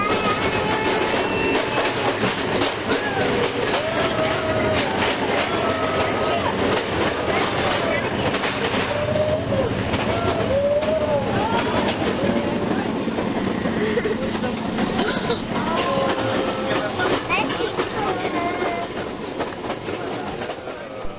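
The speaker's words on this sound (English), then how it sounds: "The uneven rails jolted us from side to side and sometimes straight up into the air" An old train on uneven Sri Lankan rails rattles and clatters continuously, close and steady, with clickety-clack beats, occasional squeals and jolting knocks, while voices talk underneath.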